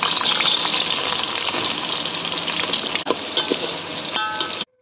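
Sliced onions tipped into hot oil already frying cardamom and cloves, for a home-cooked dish: a loud, steady, close hiss of sizzling that continues without letup and then cuts off abruptly.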